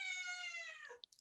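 A domestic cat gives a single drawn-out, clear meow that falls in pitch at the end, followed by a brief faint chirp, close and fairly quiet in an otherwise silent room.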